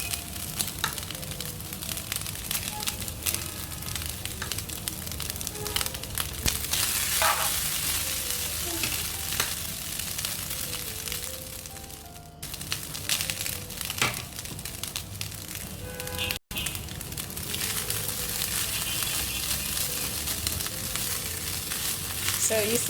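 Vegetables and pepper fry in a pan for Nigerian fried rice, giving a steady, dense sizzle that runs throughout, broken by occasional stirring scrapes and clatters. No one speaks.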